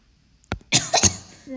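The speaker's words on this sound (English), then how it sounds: "No, I do not have corona, so don't complain about my coughing." A person gives a short cluster of three harsh coughs, near and fairly loud, followed by a faint breath.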